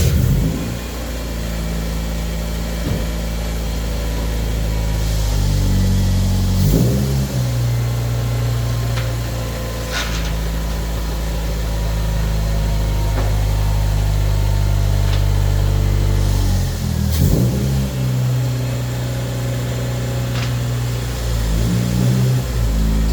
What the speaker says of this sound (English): she moves pretty good. Got me a little burnout mark there.